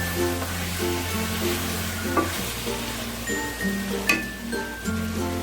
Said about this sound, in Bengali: আদা রসুন লঙ্কা চিকেনের সাথে ভালো করে একটু কুক করে নেবো যাতে কাঁচা গন্ধটা চলে যায়